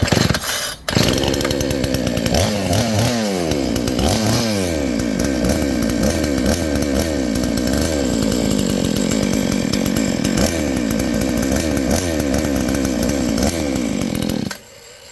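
A Noker 58cc chainsaw, a Komatsu Zenoah clone with no bar fitted and an untuned carburetor, starts with a pull and runs loudly up close, its engine revving and sagging unevenly for about fourteen seconds before cutting off.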